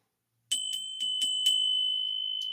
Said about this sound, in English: so we'll get a little bit bell ring